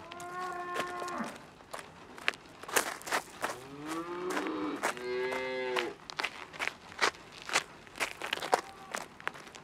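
Cattle moo in Microsoft Flight Simulator 2020, several drawn-out lowing calls near and moderately loud, separated by crunchy footstep-like thumps on the ground.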